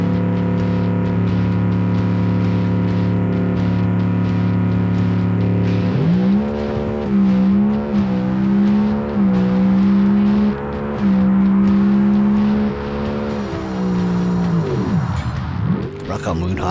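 A tube-frame Bruckell Moonhawk drag car with a 500 cubic inch naturally aspirated engine idles loudly in BeamNG, then launches hard, its engine roaring and climbing steadily in pitch down the track before cutting off near the end.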